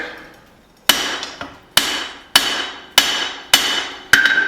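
Hammer striking a hot hatchet head being forged to final thickness with a cross peen, six loud ringing metallic blows at a slow, steady pace with each ring decaying between strikes.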